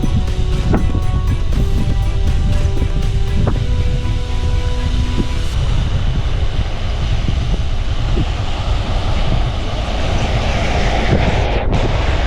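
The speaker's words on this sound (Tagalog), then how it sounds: "lakas mo ng hangin" Strong wind buffets the microphone while riding a motorcycle on a mountain road through the Sierra Madre in Rizal, a loud, continuous roar of gusting air with engine rumble beneath.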